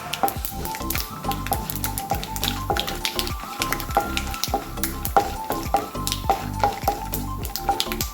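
Onions fry in hot oil for mango rice, a dense steady sizzle with rapid scraping stir strokes against the pan, close and continuous with no talking.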